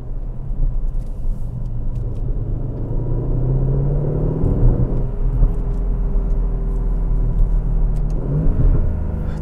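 A 2020 Aston Martin DB11 Volante V8 on the move, a loud continuous engine rumble with rising and falling pitch through downshifts, heard from inside the car without talk.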